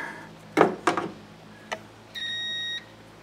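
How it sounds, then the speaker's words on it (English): A continuity tester checks a GE dryer door switch: a few faint clicks and taps of the probes, then a steady electronic beep lasting about half a second near the end. "So I have a continuity tester set up here."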